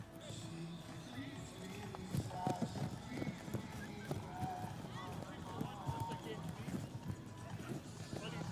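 Horse hooves clip-clop on turf at a high goal polocrosse tournament, a quick irregular patter of running steps under nearby chatter and background crowd noise.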